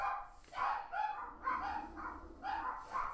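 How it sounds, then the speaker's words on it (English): Dogs bark in a steady, fairly regular series of muffled woofs, heard from another room at moderate distance, with no talking over them. "And there my dogs go."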